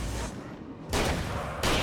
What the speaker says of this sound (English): So the shotgun deals like 2 damage per shot